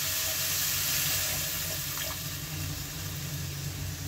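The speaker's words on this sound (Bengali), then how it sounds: "এখন দিয়ে দিচ্ছি জল, গ্রেভির জন্য জলটা দিয়ে দিলাম" Water pours steadily into a pan of katla fish curry with tomato to make gravy, a close, continuous rushing hiss with a faint sizzle beneath, no talk.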